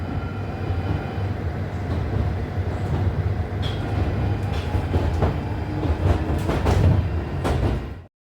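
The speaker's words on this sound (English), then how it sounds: "I'm departing platform 1 at Finchley Central." A London Underground Northern Line shuttle train pulls out of Finchley Central, its steady low rumble and wheel rattle close and continuous, with occasional clanks and squeals before the sound cuts off.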